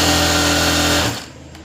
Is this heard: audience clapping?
no